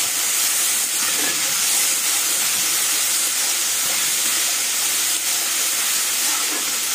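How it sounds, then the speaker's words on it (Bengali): Spice paste with a splash of water frying steadily in a pan for a Bengali cabbage and prawn ghonto, giving a continuous close hiss of sizzling throughout with no voices. "মশলাটা কষিয়ে নেবো ভালো করে।"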